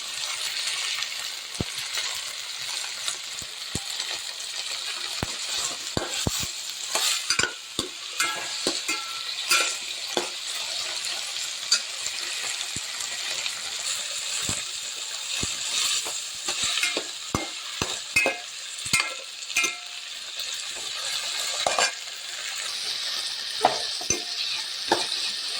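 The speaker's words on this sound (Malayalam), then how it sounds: "നന്നായിട്ടൊന്ന് വഴറ്റണം കേട്ടോ. നന്നായിട്ടൊന്ന് വഴന്ന് വരട്ടെ." Mixed vegetables sautéing in a pan for a lentil-free sambar, a steady close sizzle broken by frequent sharp clinks and scrapes of a spoon stirring against the metal, with no talking.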